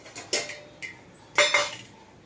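A knife chops ivy gourd and potatoes on a board, with several sharp close taps in uneven bursts over a quiet kitchen background and no one talking.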